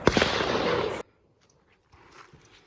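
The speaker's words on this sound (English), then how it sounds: "So I got a lot of guys shooting around me, like I said again, so you're gonna be hearing some popping" Gunfire from people shooting nearby at an outdoor campsite: a loud burst of sharp pops in the first second, then near silence before fainter, distant popping resumes.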